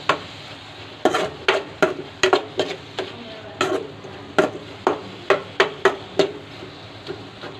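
Onions and tomatoes for pav bhaji sautéed in a pan, with a spatula scraping and tapping the pan in a steady series of sharp knocks over a low sizzle.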